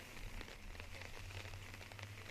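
Light drizzle falls on an outdoor disc golf course during a tournament in La Mirada, a faint, even patter of fine drops over a low steady hum.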